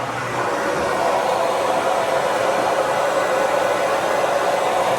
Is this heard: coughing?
no